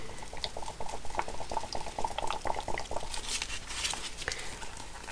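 Liquid resin being stirred in a container, a close, continuous soft sloshing and gentle tapping of the stirrer against the sides in an irregular rhythm.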